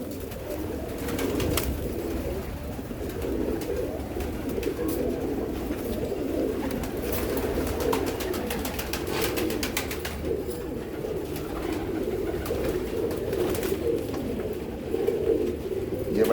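Pigeons, including black- and red-marked birds, coo in low, soft, rolling bursts that repeat over a continuous murmur of nearby flock sounds, with faint background noise.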